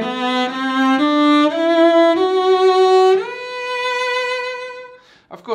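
A bowed string instrument plays a rising scale from Saint-Saëns' The Swan, each note separately bowed with small breaks between them, clear and close, alone without talk.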